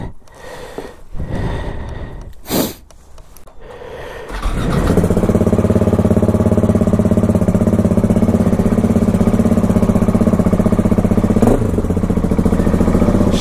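A KTM 701 motorcycle engine starts after a few seconds of quiet handling noises and then idles loudly and steadily nearby, a rough, throbbing single-cylinder rumble.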